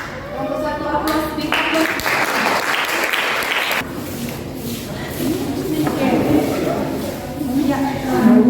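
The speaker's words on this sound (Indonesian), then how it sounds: "Sekali lagi big applause untuk anak-anak semua." Students in a classroom lesson applaud together, a steady wash of clapping that swells and recedes over several seconds while a teacher speaks over it.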